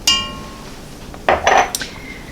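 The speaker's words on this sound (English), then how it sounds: "So we're just going to give it a nice stir" A spoon stirs cranberries and spices in a jam pot, giving a sharp metallic clink at the start, then a quiet pause before a short burst of scraping and knocking against the pot, close and fairly loud.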